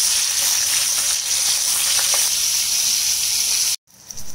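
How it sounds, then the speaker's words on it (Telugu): Pandugappa dry fish frying in oil in a pan, giving a loud, steady sizzle and hiss that runs for a few seconds, then cuts off abruptly before a faint return. "ఫస్ట్ మనము ఈ పండుగప్పని వేయించుకోవాలి"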